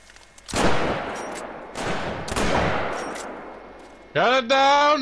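Several loud slug-round gunshots in theHunter: Call of the Wild, three or four sharp blasts with long decaying tails over about four seconds during a moose hunt, followed by a brief raised voice at the end.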